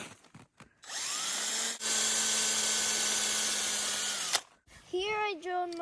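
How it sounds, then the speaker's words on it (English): An electric drill bores a tap hole into a maple tree for sap collection. The motor whines steadily and loudly for about three seconds, pauses briefly, then stops, and a voice follows. "start drilling"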